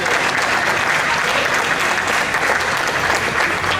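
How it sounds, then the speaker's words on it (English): Festival audience applause at a Wausau Hmong community event, dense and loud sustained clapping from a large crowd, steady throughout without a break. "We have to give them a round of applause because it is them who made this event possible"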